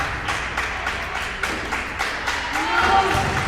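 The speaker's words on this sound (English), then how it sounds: "Starting to get a little bit of crowd noise. Some clapping from the student sections." Student sections clapping in steady rhythm at a high school volleyball match in a gym, with crowd noise underneath and a commentator talking over it.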